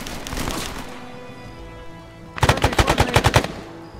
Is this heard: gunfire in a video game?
yes